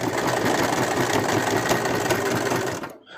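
A sewing machine stitching a plush mouse, running in a fast, steady whirring buzz, close and loud, before stopping abruptly near the end.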